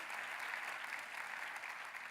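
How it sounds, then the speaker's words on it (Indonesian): Dense, steady applause from a church congregation, a loud continuous wash of many hands clapping together with no gaps, heard alone. "Tepuk tangannya yang paling meriah buat Tuhan kita."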